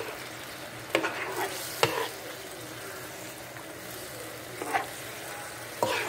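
A coconut milk mixture with condensed milk, water, salt, sugar and coconut oil is stirred in a pot on high heat, giving a faint bubbling hiss punctuated by a few sharp spoon knocks against the pot.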